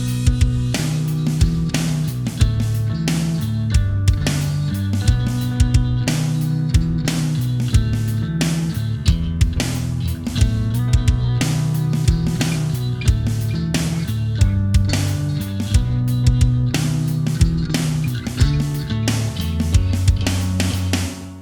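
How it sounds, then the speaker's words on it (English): A melodic bass line played high on the fretboard in a nu metal verse, running steadily over tight drums with sharp snare hits and a full band mix, loud and continuous throughout. "I'm going to create this sort of very melodic bass line that plays higher up on the fretboard"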